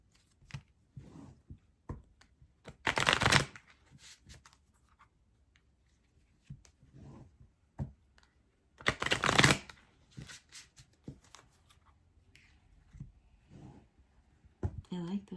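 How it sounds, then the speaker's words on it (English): Tarot cards being shuffled in two loud riffling bursts, with softer card handling, taps and slides in between, close up and otherwise quiet. "Let me just pull these"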